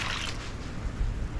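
A cup of hot water is poured into a bowl for a beef and rice casserole, giving a brief, soft splash and trickle that fades into quiet rustling, with no talk.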